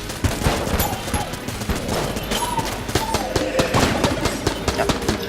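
Explosive weapons and homing bullets fire in the video game Enter the Gungeon, a dense, loud, rapid stream of overlapping shots and pops running throughout, with a player talking faintly underneath.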